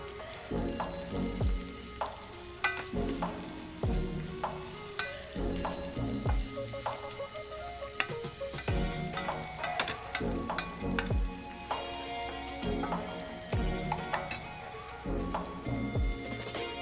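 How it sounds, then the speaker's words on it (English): Freshly ground ginger-garlic paste sautéing in a pan for a chicken curry, crackling and spattering steadily while a utensil repeatedly knocks and scrapes the pan in uneven bursts. "Now add the freshly ground ginger garlic and saute well"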